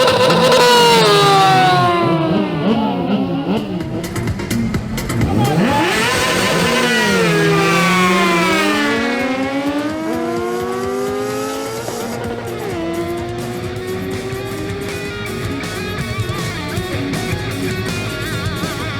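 A Honda CBR600RR and a Kawasaki Versys 1000 launch in a drag race, engines revving hard and shifting up through the gears in rising sweeps, loud and close and fading as they pull away, with no talking.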